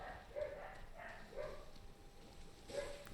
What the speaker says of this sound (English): Apologies if you can hear the neighbor's hounds just barking and baying through all of this.